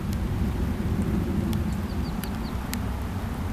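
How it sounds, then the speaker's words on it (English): Rain falls outdoors as a steady low rumbling wash, with a few faint chirps and light taps on top and no one talking. "It's kind of hard to use a wet screen, so since it's raining here"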